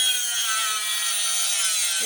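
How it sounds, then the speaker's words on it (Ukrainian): An angle grinder cuts into metal with a loud, steady, high-pitched whine and grinding hiss that holds evenly for the whole stretch, with no voices. "коли включаємо болгарку, яка розповість нам про метал багато"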